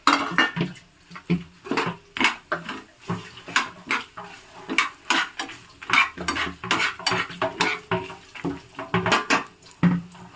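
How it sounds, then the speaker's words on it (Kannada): Fresh grated coconut is roasted in a pan, with a spoon or spatula scraping and clattering against the metal in a busy, irregular rhythm over a faint sizzle, close by throughout. "ಹಸಿ ಕೊಬ್ಬರಿ ಆಗಿದ್ರಿಂದ ಸಾಂಬಾರು ಚೆನ್ನಾಗಿ ಇನ್ನೂ ತಡೀಲಿ ಅಂದ್ಬಿಟ್ಟು ಹುರಿದಾಕೊಳ್ತಾ ಇದ್ದೀನಿ"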